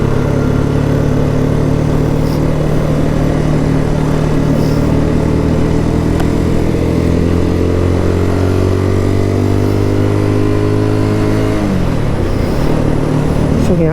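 A BSA Gold Star motorcycle engine revs steadily and loudly up close, its rising harmonic drone climbing through the revs before dropping back near the end, with no voices over it.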